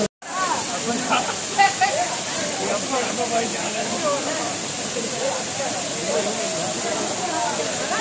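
Five Falls waterfall at Courtallam, Tenkasi, with a steady broad rush of falling water running throughout and people talking over it.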